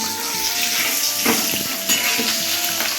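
Eggs frying in a pan for egg biryani, a steady close sizzle with a few soft stirring scrapes and light clinks of a utensil against the pan.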